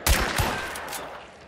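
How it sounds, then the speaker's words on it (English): A couple of quick gunshots in the video game Hunt: Showdown, sharp but somewhat muffled and distant, trailing off into a fading rumble. "I hear gunshots"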